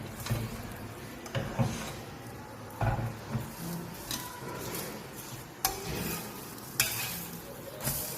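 A stuffed cheese paratha fries in a little oil on a flat pan, soft sizzling under repeated clinks and scrapes of a spatula as it is flipped and pressed, the clatter coming in uneven bursts, with no talking.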